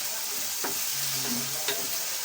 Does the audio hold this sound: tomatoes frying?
yes